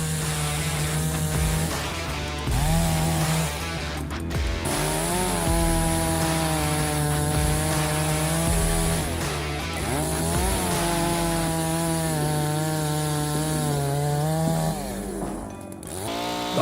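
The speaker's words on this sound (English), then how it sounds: "G660 is a powerful chainsaw designed for the most demanding forestry application" Holzformer G660 petrol chainsaw cutting wood, running at high revs with a strong, steady buzzing whine and pitch sweeps as the chain bites and eases, loud and close throughout with no talk.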